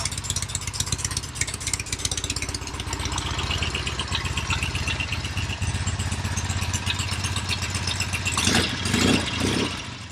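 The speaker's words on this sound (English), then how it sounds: "Got a nice quiet motor. Very good motor." A vintage Norton motorcycle engine idles steadily and close by with a dense, even rattling beat, and a couple of louder bursts from the engine near the end.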